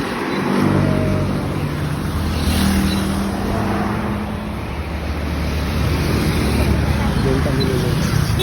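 Highway traffic roars past joggers, a loud continuous rumble of passing vehicles with surging swells, while people talk over it.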